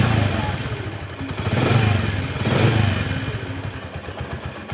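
A hard-starting Bajaj motorcycle engine, recently worked on at the spark plug and carburetor, runs close up and rises in two throaty revs over a steady rattly idle, with voices mixed in.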